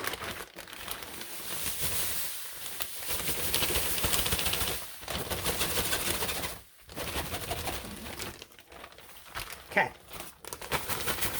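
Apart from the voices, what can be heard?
plastic bag crinkling while dye is transferred into it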